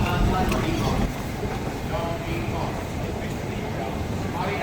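A train running in Singapore, a steady loud rumble and rattle heard from on board, with a person talking over it.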